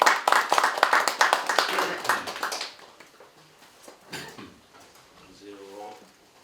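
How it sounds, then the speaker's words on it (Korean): An audience at a commemorative event claps in a dense burst of applause welcoming a performer, which fades out within a few seconds, followed by scattered rustling, a few knocks and a brief voice. "우리 박수로 맞아주시기 바라겠습니다."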